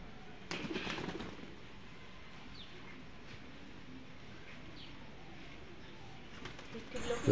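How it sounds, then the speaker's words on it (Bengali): Pigeons kept at a home loft coo softly and intermittently through a steady, noisy outdoor background, with a brief flurry of louder activity near the start. "ভাই এবার কিছু পায়রা ওড়াবে, তোমরা দেখতে থাকো কিরকম উড়ছে না উড়ছে"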